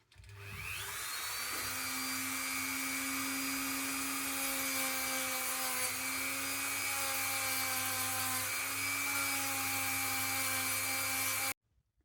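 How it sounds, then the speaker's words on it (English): Continuous high, steady motorized whine with smooth rubbing noise while working the inside of a silver spinner ring, loud and close, starting and cutting off sharply. "I've just been working on the inside of the ring with the sandpaper sticks"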